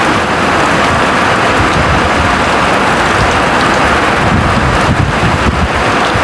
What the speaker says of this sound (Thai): มันฝนตกเนาะ